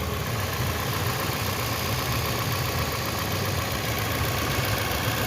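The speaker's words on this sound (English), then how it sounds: "I want to show you guys what the engine sounds like" A Toyota Camry hybrid with a 2AZ engine idles just after a short test drive, giving a steady, even mechanical hum with broadband hiss, close and constant throughout, with no talking.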